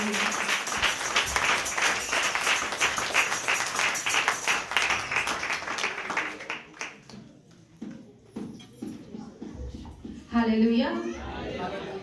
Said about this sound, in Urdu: ان کے لیے بھی ہم بھرپور تالیاں دیں.